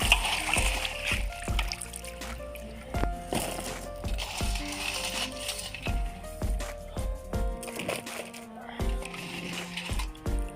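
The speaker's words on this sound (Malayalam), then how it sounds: "നല്ല വൃത്തിയായിട്ട് കഴുകിയെടുക്കാം." Crabs are washed in water, with intermittent splashing and clattering shell knocks heard close up over soft background music.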